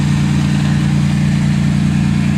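A race car engine idling right after a cold start on a farm: a loud, steady, close rumble with a fast, even pulse and no voices.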